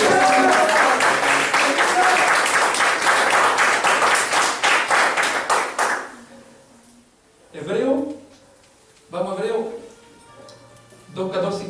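A church congregation applauds in loud, dense, rhythmic clapping that lasts about six seconds and then stops. A preacher's voice follows with bursts of speech.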